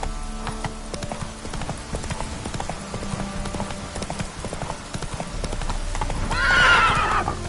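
Roach, the horse in The Witcher 3 on PS5, gallops with steady, rhythmic hoofbeats close by, and a sharp whinny rises near the end.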